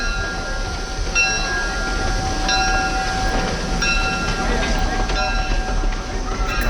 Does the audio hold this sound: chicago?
yes